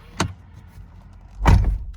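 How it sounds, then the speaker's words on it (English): A Toyota RAV4 car door opening, two distinct thuds and clunks spaced about a second and a quarter apart, the second heavier and fuller, close by with no talk. "You open the door"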